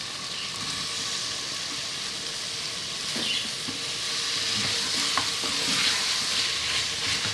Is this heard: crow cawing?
no